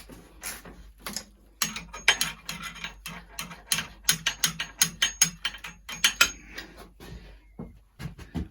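A ratchet undoing the rear wheel nut on a Yamaha YBR 125 motorcycle produces close, rapid bursts of clicking in quick repeated strokes, pausing briefly between sets, with no talking.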